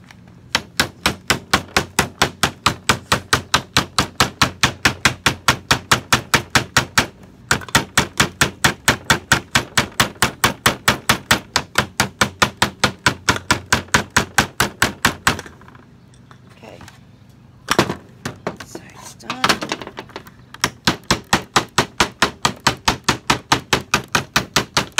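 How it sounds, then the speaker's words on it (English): A hammer strikes over and over in fast, even bursts while building a tri-level tray holder, each blow sharp and close, with a brief pause and a few scattered knocks before the rapid hammering resumes. "This hammer is perfect for me. I can do this one."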